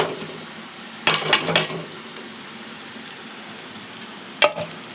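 Ragi upma with onion and tomato is stirred in a pan. A low, even hiss runs beneath two short bursts of clattering spatula and pan contact, one early and one near the end.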